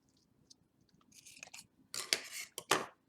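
A few crisp scissor snips cut off wrapped material at the back of a handmade country chic broom doll, starting faint and ending in two or three louder close-up cuts.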